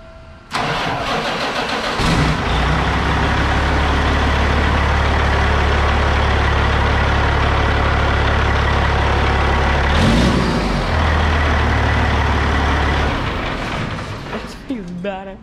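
A Cat diesel engine in a Peterbilt 389 truck cranks and fires up, settling into a loud, steady idle with a brief second crank or rev partway through, then trailing off toward the end.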